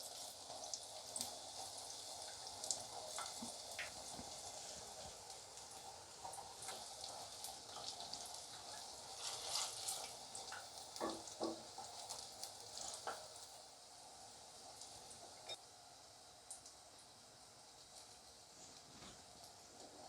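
Mixed vegetable pakoras fry in hot oil, a steady soft sizzle and crackle running throughout with small pops and clinks, moderately quiet and without voices.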